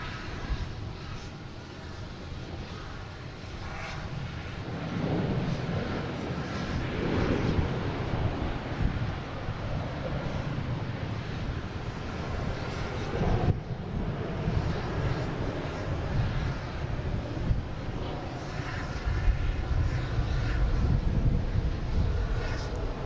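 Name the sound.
Lufthansa Airbus A380 landing at Boston Logan runway 4 right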